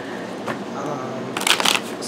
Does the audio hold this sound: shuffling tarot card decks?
yes